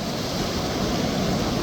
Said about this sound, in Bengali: কি বড় বড় ঢেউ